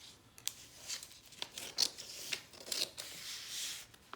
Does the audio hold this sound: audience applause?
no